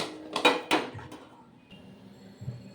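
A quick clatter of a metal utensil against a plate as roasted spices for drumstick pickle are transferred onto it, two or three sharp clinks close by, then quiet with a faint scrape.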